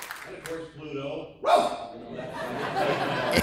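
A voice actor imitates Pluto the cartoon dog, producing a goofy vocal bark and yelp, with laughter and chatter from a convention panel around it.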